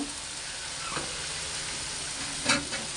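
Spice masala frying in a pan as taro is added, a steady near sizzle with a couple of sharper stirring scrapes and a brief louder burst toward the end, no speech.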